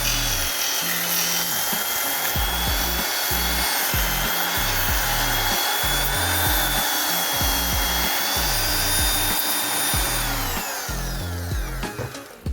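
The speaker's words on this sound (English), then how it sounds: "So we've now cleaned out our section there with our detail sander." A Clarke detail sander cleans out a steel section of a VW Beetle front beam during repair. It buzzes harshly and steadily with a pulsing, scraping rhythm and winds down at the end, with no talk.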